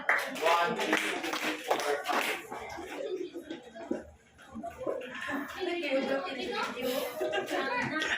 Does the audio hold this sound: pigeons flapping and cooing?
no